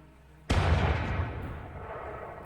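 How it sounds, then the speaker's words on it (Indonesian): One sudden loud gunshot from a forest that decays into a long rumbling echo, as if fired outdoors at some distance. "terdengar suara tembakan dari arah hutan"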